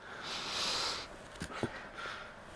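Short nasal sniffing inhales taken during a Pilates mat exercise, a couple of quick sniffs around the middle, faint and close, over a soft breathy hiss.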